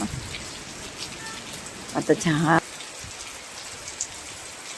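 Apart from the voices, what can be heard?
heavy rain falling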